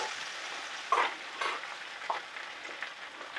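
Roasted pork cooks down in a pan, a steady moderate sizzle punctuated by a few sharp stirring clinks and scrapes, heard close with no talking.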